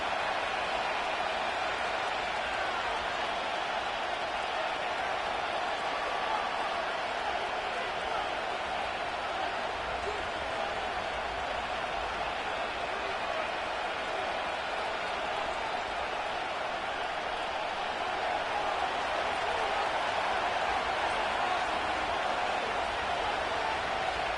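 Steady stadium crowd roar fills Ford Field in Detroit in the Madden 25 football game, a constant broadband murmur that holds at an even level throughout with no distinct cheers or voices.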